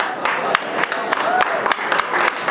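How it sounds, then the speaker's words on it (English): Audience applause at a mock presidential debate: a steady bed of clapping from a sizeable crowd with sharp individual claps popping through, sustained throughout without letup. "Those people were paid to applaud for me."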